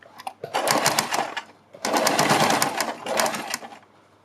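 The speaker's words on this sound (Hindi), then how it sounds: "इसके बाद हमें बीच की सिलाई लगा लेनी है" Sewing machine stitching a kurti neck design in three separate runs, each a loud, rapid mechanical whirring burst with short quiet gaps between.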